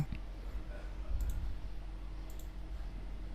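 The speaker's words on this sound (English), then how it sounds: "So just double click it to extract this zip file." A computer mouse clicked at close range to open a zip file, a few faint sharp clicks over a low hum, with brief quiet ticks around them and no talk.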